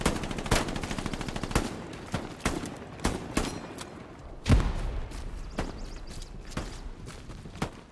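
Gunfire in the World War II video game Hell Let Loose, a string of sharp shots at irregular intervals, some close and loud, others more distant, with one heavier thump midway.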